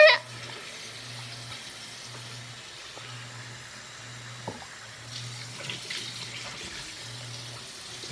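A tap runs while makeup is being washed off, a faint steady watery hiss with a low hum beneath it and a few small clinks.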